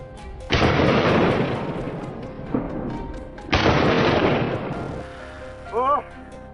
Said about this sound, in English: gunfire broke out, rapid and intense